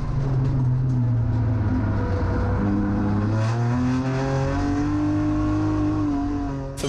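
A race car's engine revs hard and climbs in pitch as it accelerates through an overtake on the final lap of a race, loud and close, with a steady droning roar throughout and no talking.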